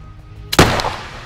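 A single sharp gunshot fired in the video game Ylands, loud and close, with a short burst and a brief ringing tail fading out over about a second.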